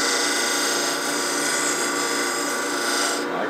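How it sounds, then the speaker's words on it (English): A tool chamfers the inside of a wooden cup chuck spinning on a lathe, giving a continuous bright scraping rasp with a steady whine, close and fairly loud, ending abruptly. "We're going to just chamfer the inside"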